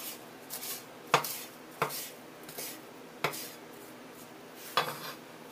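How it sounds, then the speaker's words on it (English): Fresh herbs being chopped for lamb stuffed peppers, a handful of sharp knife strikes on a cutting board spaced irregularly over a quiet kitchen background, with no talking. "I love fresh herbs. I think it's the best thing to happen to cooking. I'm gonna chop all this up."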